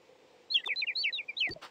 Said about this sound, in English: every bird is singing a different tune